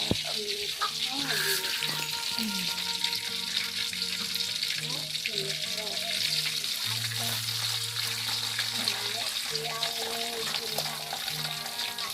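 Sambal chili paste fries in hot oil in a home kitchen, a steady close sizzle with occasional stirring scrapes running throughout.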